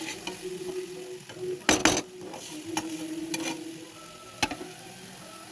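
Spices being stirred and sautéed in a pan with turmeric for an aubergine dish, a soft steady sizzle broken by a few sharp scrapes and clatters of the spoon against the pan.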